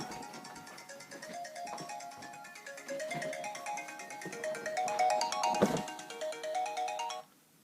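A phone ringtone plays a bright repeating electronic melody for several seconds, moderately loud in a quiet room, then cuts off abruptly.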